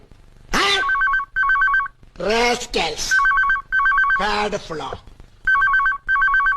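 A telephone rings in repeated trilling electronic bursts, loud and close, alternating with overlapping voices talking between and over the rings.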